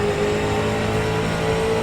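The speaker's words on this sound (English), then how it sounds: "You got heavy braking into the corner, through the corner, then heavy acceleration out" A street stock race car in iRacing powering out of a corner at Martinsville, a steady loud engine drone under acceleration with a sustained tone, alone with no talk.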